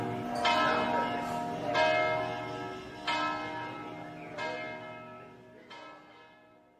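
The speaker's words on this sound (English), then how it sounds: "Wherever you will be in the city at midnight tonight, in the full silence, you will hear this bell again" A city church bell tolls five slow, evenly spaced strikes about a second and a half apart, each loud, bright and ringing out into a long, shimmering decay with no other sound.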